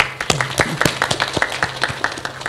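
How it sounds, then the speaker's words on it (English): An audience at a university graduation ceremony claps in a scattered burst of distinct, uneven hand claps, close and fairly loud, lasting a couple of seconds. "Let's give her a clap."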